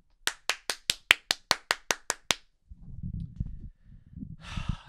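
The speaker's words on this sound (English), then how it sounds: "Let's give a round of applause." About a dozen sharp, evenly spaced claps in quick succession, then low breathy sounds and a brief burst of noise.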